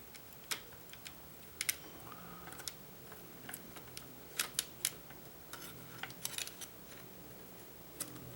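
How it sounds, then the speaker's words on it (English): Cutters snipping at a fuel line on a 1994 Saab 9000 during fuel pump repairs, a scattering of sharp metallic clicks and snips spaced through quiet garage air. "Get some cutters. We'll cut the line off."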